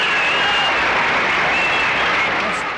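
A large crowd applauding at the Ohio State Fair, loud sustained clapping that fills the space evenly, with faint voices mixed in.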